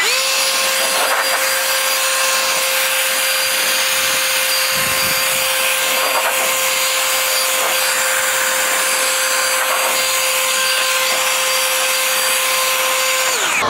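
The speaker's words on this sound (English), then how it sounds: "you could see when I was using the blower, especially initially, I was able to get this panel almost completely dry without having to use a towel at all" An air blower drying a car panel after washing gives a loud, unbroken, close whine with a steady high pitch that runs from start to finish, with no voices over it.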